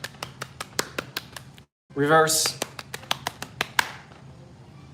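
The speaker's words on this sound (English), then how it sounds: "everybody give Vinny a round of applause" Scattered hand claps at a live sale as people applaud Vinny, sparse and uneven, with a short voice cutting in briefly midway.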